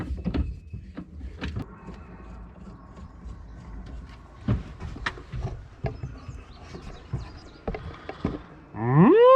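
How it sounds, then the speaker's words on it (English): A cow moos loudly toward the end, a rising drawn-out call, after several seconds of scattered knocks and clatter. "Moo, cow."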